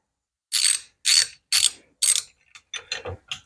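Four sharp, evenly spaced ratchet clicks from a rivet nut tool loosening its bolt, followed by several quicker, lighter ratcheting clicks, close and clear with no talk.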